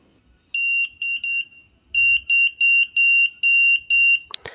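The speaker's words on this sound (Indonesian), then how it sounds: "ini adalah buzzer teman-teman yang akan mengeluarkan bunyi apabila dikasih tegangan listrik" A small electronic buzzer on a relay module circuit sounds in short, loud, high-pitched beeps: a quick run of three or four, a pause, then six more in a steady pattern, close and clear.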